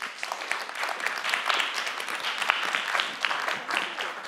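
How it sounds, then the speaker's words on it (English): Sustained applause from a conference audience at a music and tech event greets a speaker taking the stage, a dense steady patter of many hands clapping with no voices over it. "Give a really big and warm round of applause for Hazel Savage."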